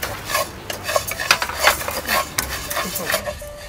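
Rice roasts in a pan as a utensil scrapes and clinks against the metal in quick irregular strokes, with light sizzling underneath, close and moderately loud.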